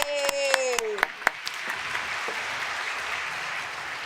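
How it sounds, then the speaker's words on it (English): Audience applause and cheering for contest winners at the AASHE 2016 sustainability conference opening ceremony, with an amplified voice calling out over it at first before the steady clapping continues alone. "Now I need you all to give a big AASHE round of applause to all of our contest winners."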